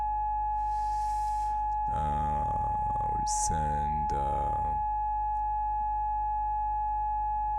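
A synthesizer module sounds a steady, continuous sine tone throughout, with someone speaking briefly over it midway.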